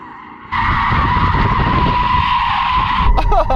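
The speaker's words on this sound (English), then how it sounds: "four-wheel drive SUV, it's not meant for sliding around and donuting" A Porsche Cayenne Turbo GT four-wheel-drive SUV spins donuts, its tyres howling in one loud sustained skid with the engine roaring underneath, ending in a brief scrub.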